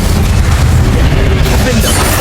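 An Incendio fire spell cast in Hogwarts Legacy bursts out as a loud, dense rushing blast of flame, one continuous roar lasting about two seconds with game sounds layered in.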